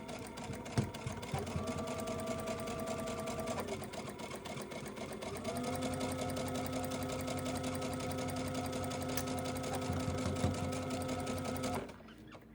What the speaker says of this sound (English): And we're just going to sew right off the edge of the